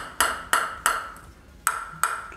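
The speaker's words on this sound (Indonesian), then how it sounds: "Tuh bunyinya tik-tik, bunyinya kecil banget." A table tennis ball strikes a Sunflex LSH SC Off+ Supreme carbon blade, making six small, sharp, metallic tik sounds at an uneven pace with a short pause in the middle.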